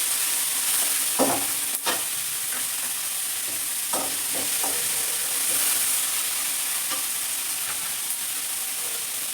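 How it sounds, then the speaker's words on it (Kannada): Tomatoes and onions fry in a pan with a steady, hissing sizzle, broken by a few scraping stirs and clinks of the spatula close by. "ಟೊಮ್ಯಾಟೊ ಇದು ಫ್ರೈ ಆಗಬೇಕು"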